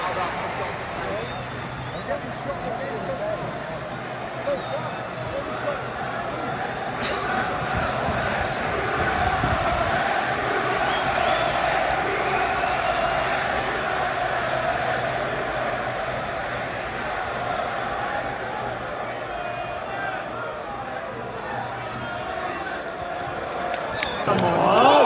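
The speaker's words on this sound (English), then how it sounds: "That's fired the home crowd up, for God's sake." Home crowd at an Ipswich versus Plymouth League One football match, a steady broad roar of many voices filling the stadium throughout, with a swell of noise midway and talk close by over it.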